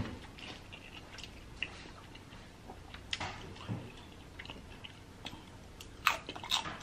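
Someone chews crunchy little cheese bits along with birria ramen noodles, giving soft, close, irregular crunches and wet mouth sounds with brief pauses and no talking.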